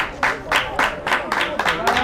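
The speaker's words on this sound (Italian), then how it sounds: "I tifosi applaudono" Fans at an under-15 youth football match between Veneto and Friuli clap in a steady rhythm, about four claps a second, with voices mixed in over the clapping.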